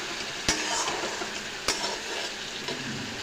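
Tomato, ginger and green chilli paste hits hot oil with okra, giving a steady broadband sizzle with a few sharp stirring knocks against the pan.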